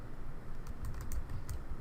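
Fingers type on a computer keyboard, a quick, close run of light clicking keystrokes, quiet and steady with no voices.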